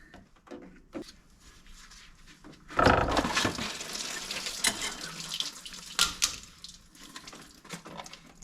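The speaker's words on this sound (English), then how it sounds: "I ended up spilling all the coolant all over the place." Coolant spills from a loosened reservoir hose on an Autozam AZ-1 (Suzuki Cara), close up. The liquid splashes and trickles steadily, with a heavier gush near the middle, and no one speaks.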